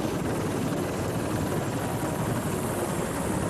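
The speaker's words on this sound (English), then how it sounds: "As soon as the chopper touches down, Terry hits the ground running." A medical transport helicopter landing at a street intersection, its rotor and engine making a steady, loud, close roar that fills the whole stretch with no voices.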